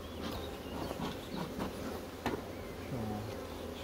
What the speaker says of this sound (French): Je suis dans un bain d'abeilles.